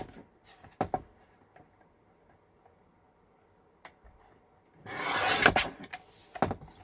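Paper edges are trimmed for a handmade floral journal: a short scraping cut near the start, then a longer, louder rasping stretch of cutting toward the end, with quiet handling between.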